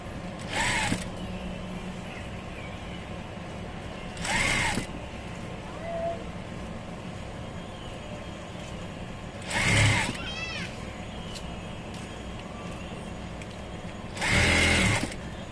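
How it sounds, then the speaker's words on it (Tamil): A tailoring sewing machine stitches the second sleeve of a blouse or nighty in short bursts of a second or so, about four separate runs spaced several seconds apart, with quiet gaps between them and soft ambient room noise throughout. "அகைன் ரெண்டாவது கை தைக்கிறேன்."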